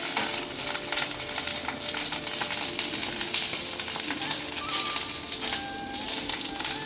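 Green chillies and garlic sizzle steadily in hot oil in a pan, a loud, continuous near crackle with a few brighter pops and no one talking.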